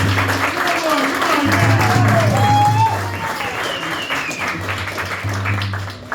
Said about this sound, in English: Everyone deserves a round of applause.